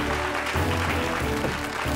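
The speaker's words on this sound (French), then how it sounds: "est-ce qu'on peut applaudir beaucoup?" Brief applause rises from an audience on a variety show, with steady clapping blended with background music.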